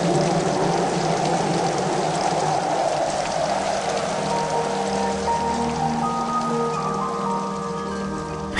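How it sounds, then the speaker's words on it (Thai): Steady rain pours down as an even, dense hiss throughout. A sustained tonal hum joins in the second half, and no voices are heard. "ฝนโบกครพัดนี้มิใช่ว่าจะตกท่ามกลางที่ประชุมแห่งพระประยุรญาติในครั้งนี้เท่านั้น"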